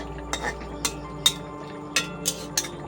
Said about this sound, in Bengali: ধনে পাতাটা দিয়ে একটু নাড়িয়ে দেবো